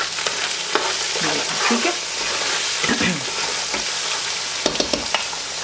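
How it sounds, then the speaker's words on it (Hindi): Onions sizzle and fry in a pan for chicken curry, a steady crackling hiss with occasional stirring scrapes, close and continuous, and a brief spoken word near the end. "तो इसे भी डाल लें और प्याज को अच्छे से फ्राई कर लेते हैं।"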